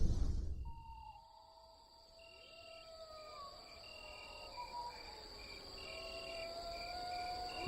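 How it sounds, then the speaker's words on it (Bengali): Crickets chirp steadily at night in a drama sound effect, with long thin tones and faint pulsing trills held over a quiet background after a brief louder sound at the start. "ঝিঝি আর শিয়ালের ডাককে ছাপিয়ে"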